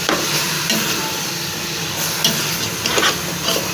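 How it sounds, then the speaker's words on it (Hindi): Potatoes for aloo methi fry loudly in a pan, with a dense, constant sizzle and hiss. Scraping and stirring knocks from a spoon punctuate it every so often, and no one talks. "डाल देते हैं आलू, इनको भी भून देते हैं।"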